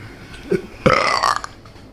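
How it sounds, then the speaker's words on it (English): A single loud, close belch from a person, a short guttural eruption following a brief lead-in noise, with no talk over it. "He belches clean in your face."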